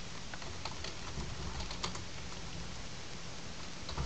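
Fingers tap a computer keyboard in quick, irregular bursts of soft clicks over a steady background hiss, close and continuous with no talking.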